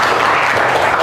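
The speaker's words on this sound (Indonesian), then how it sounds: "tepuk tangan dulu untuk Michelle" A classroom of junior high students breaks into brief applause for a classmate, a dense burst of many hands clapping together, fairly loud and close.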